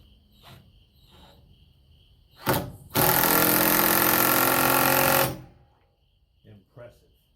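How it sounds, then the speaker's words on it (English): An impact driver hammers a lag bolt into wood in one sustained loud burst of about two and a half seconds, preceded and followed by a few short clicks and faint shop noise, with crickets chirping in the background. "let's find out how good this impact driver does driving these lag bolts in here"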